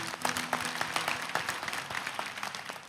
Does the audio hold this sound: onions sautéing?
no